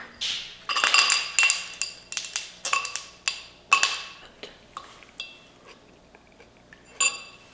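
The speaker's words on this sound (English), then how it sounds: "we're gonna put some ice cubes in it to help it cool down a little bit more" Ice cubes clink and tinkle in a bowl of hot chicken bone soup, a quick run of bright sharp knocks that thins to sparse clinks, with one last clink at the end.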